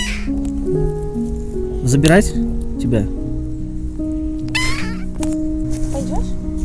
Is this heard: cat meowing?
yes